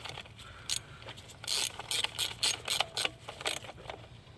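A hand ratchet clicks in short bursts while lightly snugging valve cover bolts on a 2008-2012 Nissan Rogue, several quick pawl strokes close up with brief pauses between.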